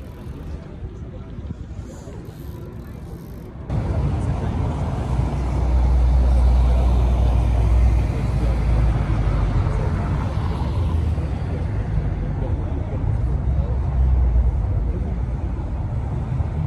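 Ferraris driving past on Place Vauban with a broad, steady low engine rumble that swells mid-clip, heavy wind noise over the microphone throughout.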